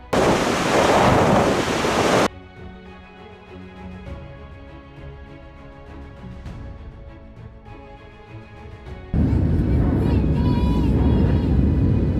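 Ocean waves crash around a Coast Guard vessel, loud broadband surf and wind at the start and again near the end, with a quieter tonal stretch in between.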